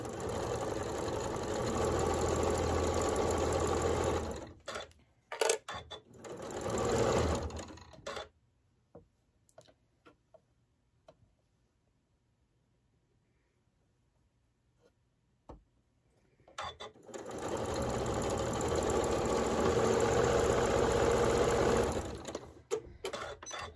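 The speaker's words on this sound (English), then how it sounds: "Start sewing." A sewing machine stitches a quilt block, with a long close run of fast, steady chatter, a few short stop-start bursts, a quiet pause with faint clicks, then another long continuous run.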